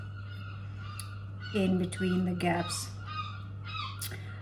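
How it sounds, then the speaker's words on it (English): Seagulls call in a short burst of cries in the middle, over a steady low hum, with a few faint words spoken. "And that's the seagulls in the background"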